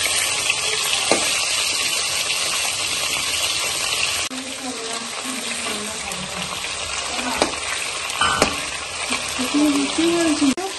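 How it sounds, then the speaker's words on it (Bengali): Prawns sizzle in a hot wok, a steady hiss of frying held throughout, with brief clinks and scraping as they are turned and a voice talking over part of it. "চিংড়ি মাছগুলো হালকা করে ভাজবো"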